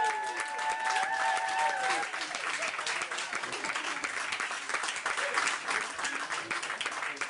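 Enthusiastic audience applause for a comedian taking the stage at a comedy show, loud dense clapping with a brief whoop near the start, sustained and close.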